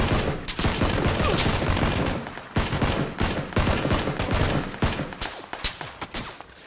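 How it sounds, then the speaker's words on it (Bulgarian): Rapid bursts of automatic gunfire in PlayerUnknown's Battlegrounds, loud and dense with short pauses between volleys, continuing through the whole stretch with no talk. "Само че не ги виждам откъде стрелят отпред"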